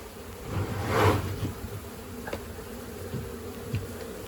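Dense cluster of honeybees inside a garden shed gives a steady, close buzzing drone that swells briefly as bees move nearby, with faint knocks in the background.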